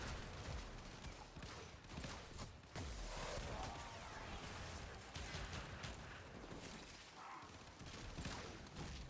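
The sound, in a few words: full auto dual shotgun pistols firing in a video game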